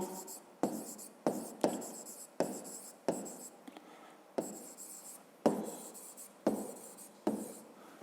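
Pen or pencil writing numbers on paper during a fifth-grade math exercise, a close series of rhythmic scratchy strokes in bursts with brief pauses between, no talk.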